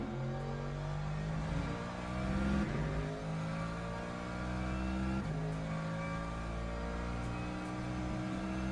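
Race car engine in the Le Mans Ultimate racing game at Portimão, a steady droning roar with rising and falling revs as gears shift, loud and continuous with no talk.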